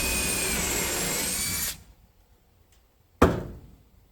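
A power drill fitted with a countersink bit whirs steadily at close range for under two seconds, then stops. After a short quiet gap comes one sharp knock with a fading ring.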